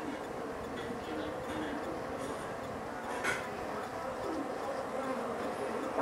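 A swarm of Melipona flavolineata stingless bees, the urussu amarela, hums in a steady, dense buzz close by throughout, with no talk over it.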